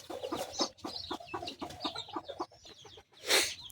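Native chickens cluck beside newly hatched chicks after a 21-day incubation, with a steady run of short, close clucks and shrill peeping, ending in a louder burst of chirps.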